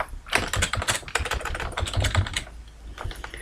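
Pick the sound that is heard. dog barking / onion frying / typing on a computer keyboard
typing on a computer keyboard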